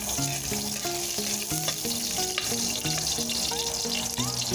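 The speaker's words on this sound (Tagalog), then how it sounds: "gigisa na tayo. Mainit na yung mantika. Kaya unahin natin luya." Hot oil sizzles and crackles steadily as ginger sautés in a pan, a constant hiss with a melodic tune playing loudly over it; no talking.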